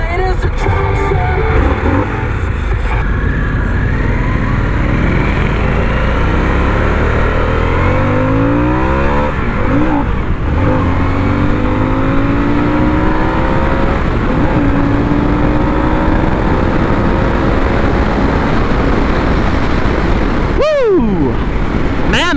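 A Harley-Davidson Sportster S with the liquid-cooled Revolution Max 1250 engine runs loud and steady throughout, its rising and falling engine tones suggesting revving and acceleration, with a faint sweeping whine near the end.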